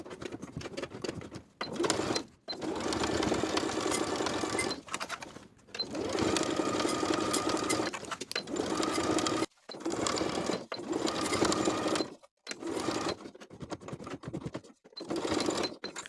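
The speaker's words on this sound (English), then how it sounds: "Sew the waistband to the top of the pant all the way around with a 3/8 inch seam allowance." A sewing machine stitches a jeans waistband onto the top of denim pants in bursts of rapid mechanical whirring, each run lasting a few seconds and separated by short pauses, close and steady.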